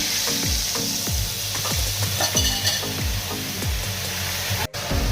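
Spices fry in oil in a wok with a constant sizzle, while a spatula scrapes and stirs in a regular rhythm, about two strokes a second, close and fairly loud.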